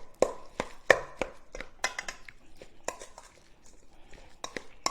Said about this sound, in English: let's get all this mixed in together